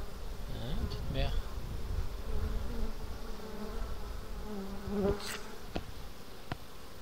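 Honeybees buzz steadily around the entrance of a Kenyan top-bar hive as foragers fly in carrying pollen, a continuous droning hum with a few louder passes of individual bees close by.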